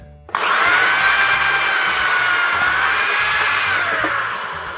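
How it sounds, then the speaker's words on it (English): A power drill fitted with a titanium pilot-point bit bores a hole through a school locker prop stand, a loud steady whine that starts abruptly and holds for several seconds before easing slightly at the end. "this is gonna be a Pilot Point titanium drill bit"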